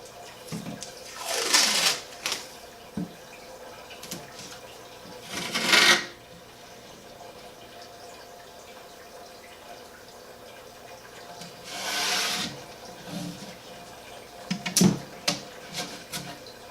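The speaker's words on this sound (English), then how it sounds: "I'm just using painter's tape for that." Painter's tape is pulled off the roll and pressed on to mask the plastic of an aquarium, giving a few separate, rasping tearing strips with quiet handling noises between them.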